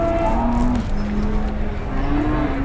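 A cow moos loudly and close, one long drawn-out low call followed by another beginning, over steady outdoor background noise.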